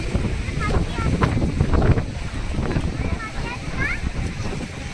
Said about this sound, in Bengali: এত হাওয়া হচ্ছে